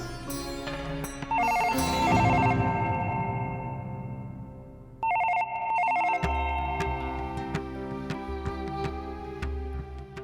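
A telephone rings indoors with repeated bright electronic trills in two sustained bursts, loud and close, over a low background of music and room noise.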